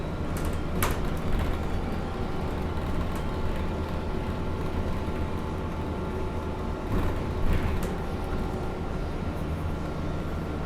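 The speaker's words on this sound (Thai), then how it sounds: "รถไฟขนสินค้านะครับ ดูครับ รถรถไฟ กำลังวิ่งอยู่ครับ" A low, steady rumble of a freight train running in the distance in Canada, continuous and fairly faint, with a couple of brief higher clanks.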